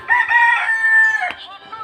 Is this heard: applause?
no